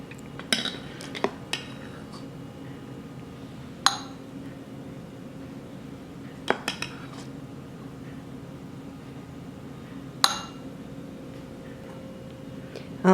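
A metal spoon scrapes and clinks against a bowl while soft serve coffee ice cream is served, with a handful of sharp, separate taps spread across a quiet room.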